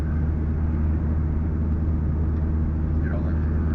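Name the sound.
C4 car driving, heard from inside with windows up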